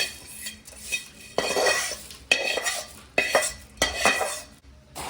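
A spoon stirs and scrapes a mix of puffed rice, lentils and spices in a metal pan, making repeated close scraping and rustling strokes with light metallic clinks at an uneven rhythm.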